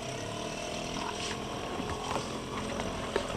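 Boat outboard motor droning steadily on open water near the Seychelles, a continuous engine hum with wind and splashing, no talk.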